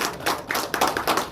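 Scattered applause breaks out at a Surabaya 2020 mayoral election media gathering, a short burst of irregular claps from a small crowd, fairly close and uneven in rhythm.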